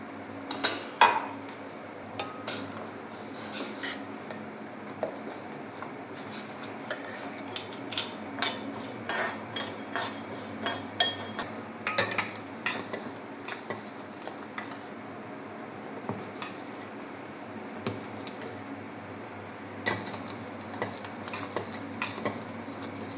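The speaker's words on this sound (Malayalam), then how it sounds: "ശർക്കര ഉരുകുമ്പോഴേക്ക് നമുക്ക് ആവശ്യത്തിനുള്ള അരി വറക്കാം" Raw parboiled rice is dry-roasted in a pan, with a spoon scraping and clinking against the metal in irregular, soft strokes over a faint background hiss.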